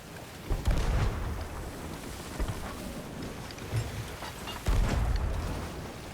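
Gunfire in the pirate video game Sea of Thieves, with two heavy booming blasts, one early and one near the end, rising over a steady rush of wind and sea ambience.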